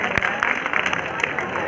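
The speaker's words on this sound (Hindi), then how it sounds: "चारों बॉडी बिल्डर के लिए जोरदार ताली हो जाए जोरदार ताली हो जाए" Applause for four bodybuilders at a gym bodybuilding show, a steady, dense wash of clapping from a crowd with sharp claps popping out near the start, blended with background chatter and voices.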